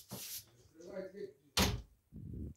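A door being pushed shut in an apartment building corridor, with a sharp, loud closing thump in the middle of the clip between bursts of nearby indoor sounds and a voice.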